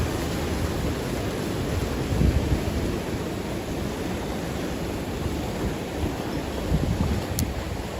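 Huge ocean waves churn and roar in a continuous broad wash of surf, heavy with wind buffeting the microphone and a few louder surges.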